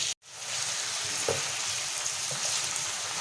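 Chicken pieces fry on a flat tawa in a steady, close sizzle that runs almost the whole time after a brief silent gap at the start.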